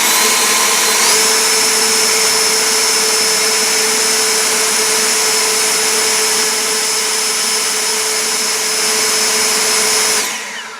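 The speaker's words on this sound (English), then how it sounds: "And then we will do turbo with the flathead on the asphalt." An EGO Power+ LB6504 cordless leaf blower runs on turbo with the flathead nozzle over asphalt, a loud, steady high whine and air rush held close for about ten seconds before it winds down at the end, no talking.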